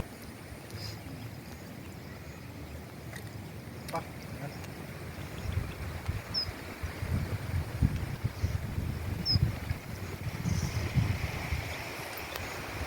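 Gusty wind buffets the microphone with low, uneven rumbling that builds stronger in the second half, a few faint sounds in the background.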